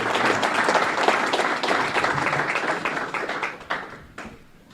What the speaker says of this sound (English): Let's give Mike another round of applause.